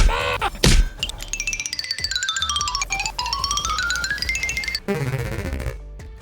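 A heavy thunk of a tactical shield bash in XDefiant, followed by whooshing, squeaky game effects and another impact near the end.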